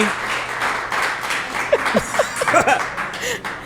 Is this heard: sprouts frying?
no